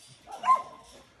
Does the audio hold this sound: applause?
no